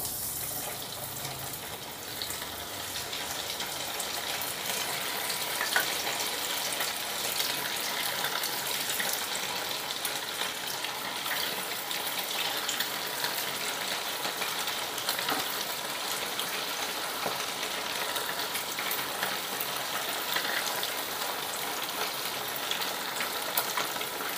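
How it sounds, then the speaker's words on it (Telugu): Fish pieces for Apollo fish fry frying in a small amount of oil, giving a steady, dense hiss and crackle that runs evenly throughout without talk. "ఇప్పుడు మనం మిగిలిన ఫిష్ని కూడా వేసేసుకుందాం."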